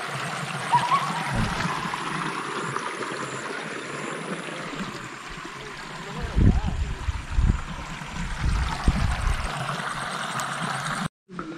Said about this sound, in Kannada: ಕೊಳ್ಳ ನೋಡಿ ಇಲ್ಲಿ ನಿಮಗೆ ಕೇಳಿಸುತ್ತೆ, ನೀರು ಹರ್ಕೊಂಬರ್ತಾರದು ನೋಡಿ